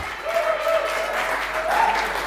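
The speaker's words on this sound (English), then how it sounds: "Time for everybody to give a big round of applause to Daniel and Sophia, our live painters." An event crowd applauding live painters, dense clapping with a few whoops and cheers over it, continuous and fairly loud throughout.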